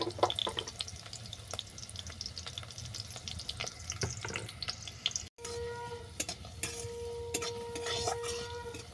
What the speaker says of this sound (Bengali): শুকনো লঙ্কাগুলো ফাটিয়ে দিচ্ছি এগুলোকে বাদামি করে ভেজে নেবো